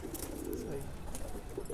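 A soft, low coo from a Yarkani pigeon rolls on briefly in the background, faint and close to the level of the surrounding room noise.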